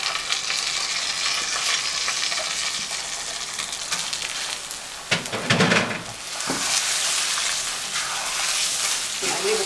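Washed rice is stirred into fried vermicelli in a pot for koshari, a loud constant sizzle with scraping spoon strokes and a heavier burst of splashing and stirring midway, up close.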